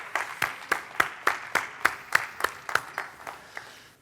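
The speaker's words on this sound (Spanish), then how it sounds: "Un aplauso, por favor." Audience applause welcoming a pain-unit doctor at a medical conference, heard as a sparse group of about a dozen distinct, evenly spaced claps that gradually thin out and fade.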